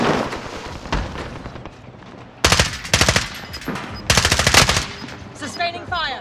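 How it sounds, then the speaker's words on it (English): Gunfire in Warzone Rebirth, sharp rapid bursts of automatic fire in two or three loud close volleys, separated by quieter stretches of game ambience. "Sustaining fire."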